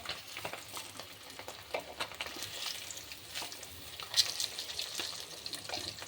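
Fish frying in hot oil in a pan, a soft steady crackling sizzle with scattered pops and bubbling, faint and close, no talk over it.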